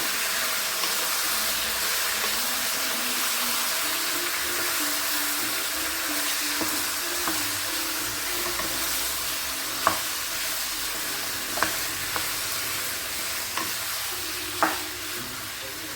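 Chicken pieces sizzle and fry in a pan while being stirred, a steady broad hiss with occasional sharper scrapes and clicks of the spoon, close and continuous without any talking.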